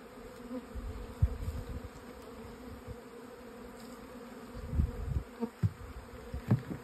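A steady drone of many honeybees buzzing close by, with occasional soft bumps and knocks around the hive.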